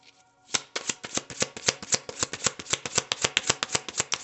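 Tarot cards being shuffled by hand, a quick run of crisp, evenly spaced riffling snaps repeating close up in a steady rhythm, with no voices over them.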